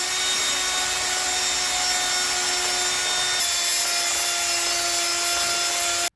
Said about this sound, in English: All right, let's wire wheel the rest of it off here real quick.